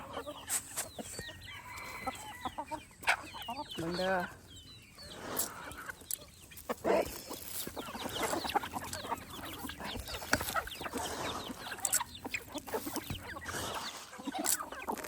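Chickens cluck steadily outdoors in a forest setting, with a rooster's crow among scattered bird calls, moderately near and continuous against a dense natural background, while a voice speaks briefly.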